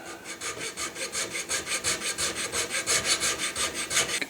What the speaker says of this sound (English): file a little bit, scrape a little bit, and it seems to be tight right at the back end.